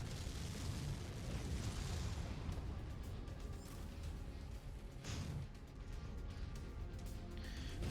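A low, rumbling blast from a mech battle in MechWarrior plays fairly faint and distant, with a sustained roar and a couple of sharper bursts near the end.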